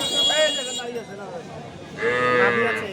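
Sahiwal heifer cattle lowing at a busy cattle market, two drawn-out moos close by, the second louder, amid crowd voices and talk.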